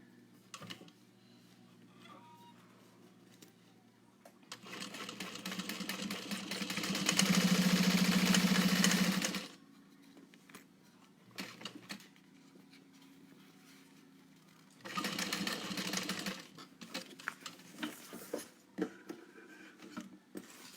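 A sewing machine top-stitching a fabric pouch, running in one steady burst of several seconds and then a shorter run, with soft handling noises in the pauses.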